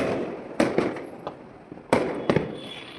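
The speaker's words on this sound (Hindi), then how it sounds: "साइड से आपको पटाखों की आवाज़ आ रही होगी" Diwali firecrackers going off: two clusters of sharp, cracking bangs, each a quick volley of pops with echoing tails, heard from a short distance with quieter gaps between.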